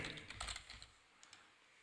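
A quiet burst of computer keyboard typing, with rapid soft key clicks clustered in the first second, then a couple of isolated taps before it falls silent.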